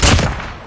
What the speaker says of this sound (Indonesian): Ada yang nembak.